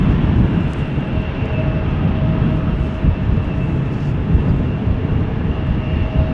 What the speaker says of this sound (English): KLM A321neo to Berlin lined up right now.